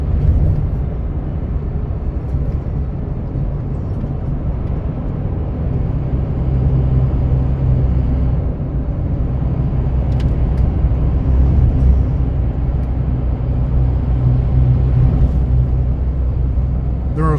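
Steady car traffic on Highway 14, heard from inside a moving vehicle as a continuous loud road rumble and engine drone, with passing vehicles swelling slightly throughout and no talking.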